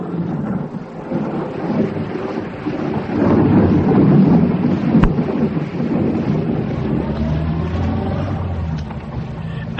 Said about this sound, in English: the storm began quite suddenly, and everything was thunder